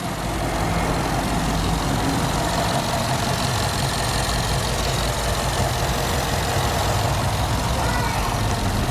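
A 2011 Ford Mustang GT with a 5.0-liter V8 and six-speed gearbox idles close by, a steady, dense low rumble that stays even and loud throughout.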